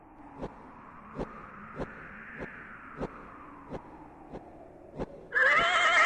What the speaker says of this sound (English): You slip the bridle over the horse's head. It whinnies its approval.